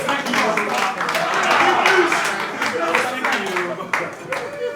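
An audience at a live evening show bursts into sustained applause, a dense wash of clapping with crowd noise that holds steady and fairly loud for several seconds.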